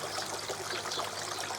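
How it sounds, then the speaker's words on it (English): Water streams steadily through a koi pond's gravity filter system, a continuous soft splashing trickle with no voices. "got water going through the filter system"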